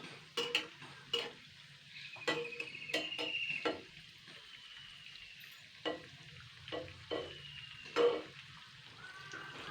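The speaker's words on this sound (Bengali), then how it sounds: "লাল লাল করে ভেজে নিয়েছি" Spiced pumpkin fritters (misti kumro bora) fry in hot oil with a soft, low sizzle, broken by scattered sharp clicks and taps of a utensil against the pan.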